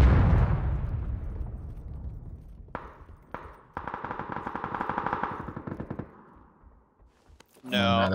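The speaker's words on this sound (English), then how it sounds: "No, that was a explosion." A heavy video game explosion in PUBG booms and rumbles away, followed by a rapid burst of gunfire and a few sharp shots, then a loud noisy blast at the end.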